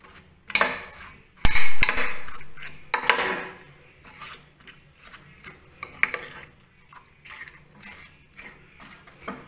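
A spoon clinks and scrapes against a bowl while stirring a homemade custard mixture, with irregular close taps and swirls and a louder clatter near the start.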